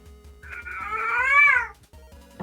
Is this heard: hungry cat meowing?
yes